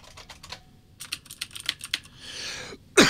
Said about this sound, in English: These are the clicky Cherry keys. These are Cherry greens.